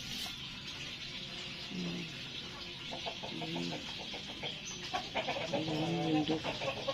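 Chickens clucking in a farmyard, several short bursts of clucks spread across the clip over a soft outdoor background, moderately near and not very loud.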